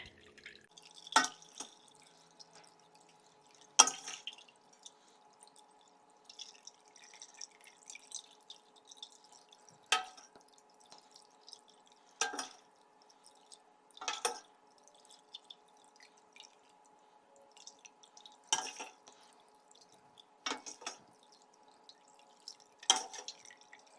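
Chicken stock drips slowly through cheesecloth while the broth is strained, single close plinks spaced a few seconds apart over a faint steady hum, no talking.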